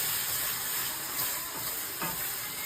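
Mutton with Kashmiri chilli and turmeric sizzles steadily in a hot pan, a close continuous frying hiss with occasional stirring scrapes and no talk.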